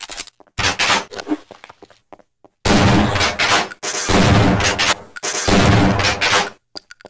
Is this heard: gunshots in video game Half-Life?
yes